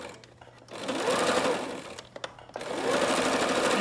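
Sewing machine running a straight reinforcement stitch on a homemade fabric face mask, loud rapid mechanical chatter in two bursts separated by a short pause.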